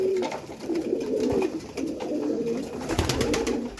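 Pigeons coo in a loft, steady rolling low calls overlapping from several birds at close range, with occasional rustles and knocks.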